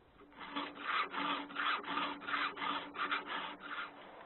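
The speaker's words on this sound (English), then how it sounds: "The best way to file the chain is to fasten it like this." A sawmill chain being hand-filed with a file while clamped, nine rhythmic rasping strokes evenly spaced, close and fairly quiet, with no talking.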